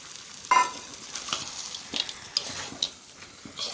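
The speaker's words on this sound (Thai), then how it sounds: "อันนี้ถั่วลิสงคั่วนะคะตามลงไปเลยนะ" Roasted peanuts being stirred into a chicken massaman curry in a pan: a quick run of spoon scrapes and soft clacks over a low, steady sizzle, close up, with no voices.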